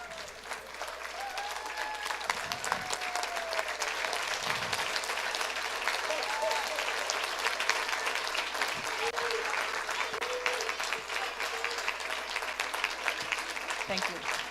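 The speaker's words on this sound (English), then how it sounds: "Can we all please get up and give them a beautiful standing ovation" A standing ovation at an Eashwaramma Day celebration: a large crowd claps steadily and evenly, a dense continuous patter that holds at full strength throughout.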